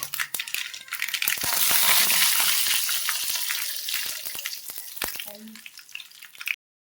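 Curry leaves hit hot oil after mustard seeds have popped, with a loud, bright sizzle that swells and slowly fades, dotted with sharp crackles and pops.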